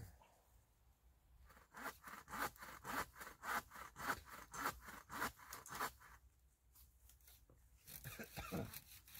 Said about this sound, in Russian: Приобрел, ребят, такую пилку себе.